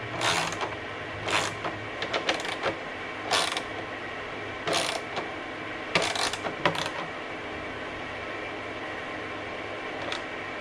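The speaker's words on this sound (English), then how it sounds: "Now I'm just going to kind of tighten them down in a star pattern" A hand ratchet tightens mounting hardware on a Harley-Davidson tour pack in a star pattern, with short bursts of clicking ratchet strokes separated by pauses, close and moderately loud over a quiet room.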